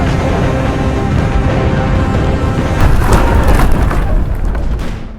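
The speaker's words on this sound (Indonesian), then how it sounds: "tiba-tiba ledakan dahsyat menghantam kapal Jepang" A huge explosion strikes a Japanese warship in a naval battle, a dense, sustained roar of rumbling booms and crackling debris that swells loudest midway before fading, with no voices.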